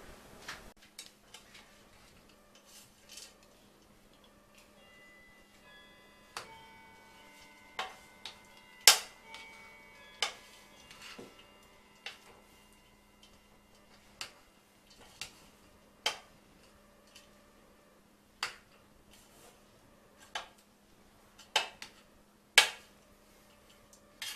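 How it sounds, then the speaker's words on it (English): Korean rice cake mixture is stirred in a bowl: irregular tapping clicks of a utensil against the container, mostly quiet with sharper knocks every second or so, alone without talk. "And now I need to mix it thoroughly."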